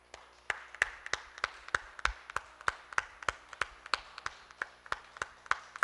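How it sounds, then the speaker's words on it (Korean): Church congregation clapping in celebration during an Easter service, a steady rhythmic beat of unison claps, moderately distant and without talk. "우리 정정할 때 우리 박수로 우리 한번 축하합시다"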